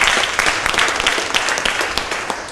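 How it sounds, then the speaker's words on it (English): A full room applauds a visiting team at a community event, giving dense, continuous clapping at close range that tapers slightly toward the end, with no talking over it. "So let's have a round of applause, please,"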